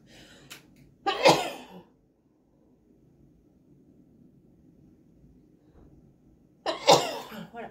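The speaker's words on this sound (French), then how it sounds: "Je vais éternuer." Two sharp, loud sneezes separated by several seconds of quiet room tone, with a faint breath just before the first.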